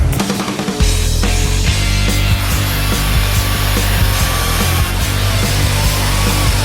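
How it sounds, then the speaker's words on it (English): A power sanding tool grinds steadily and loudly against a block of ice while an ice sculpture for a hookah lounge display is shaped. The harsh, continuous abrasive whir runs without pause and no voices are heard. "some of these tools that just sand and stuff allow us to kind of shape it without going too far"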